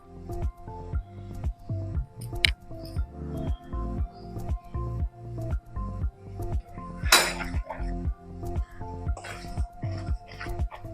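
Samosa dough with oil mixed into flour and spice is kneaded stiff by hand in a bowl, giving a steady, rhythmic series of soft squelching presses at close range with no talk.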